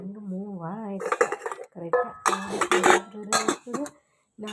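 Washed pots, plates and cutlery clatter and clink as they are handled in a home kitchen, in bursts of metallic ringing and scraping, with a voice heard at the start.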